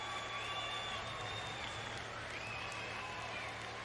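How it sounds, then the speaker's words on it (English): Swiss fans cheer and applaud in a stadium after a men's 5000m race finish at the 2019 Universiade in Naples, a steady distant crowd roar with commentary voices over it. "there's some very excited Swiss fans underneath us, I can hear cheering their heads off"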